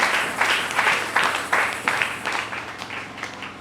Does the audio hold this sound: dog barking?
no